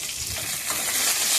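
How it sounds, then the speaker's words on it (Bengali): Tomatoes hitting hot oil tempered with chilli, sugar and clove, a loud, dense sizzle with stirring that swells slightly toward the end, no talk. "লঙ্কা চিনি লবঙ্গ ফোড়ন দিয়ে টমেটো দিয়ে দিলাম"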